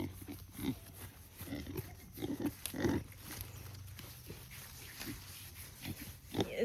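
A muddy farm pig gives repeated low, soft grunts close by, in an irregular snuffling rhythm over faint outdoor background noise.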